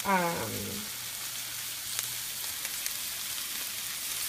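Shallots dropped into a hot frying pan while making Margherita chicken with zucchini, a brief close sizzle at first that settles into a steady faint frying hiss with a few light clicks, and a voice briefly at the start.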